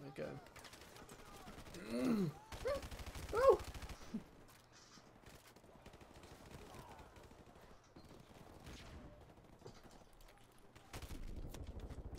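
Gunfire in Call of Duty Modern Warfare Remastered during the War Pig campaign mission: sharp rapid bursts early on, a quieter stretch of scattered shots and mechanical clatter, then renewed firing at the end.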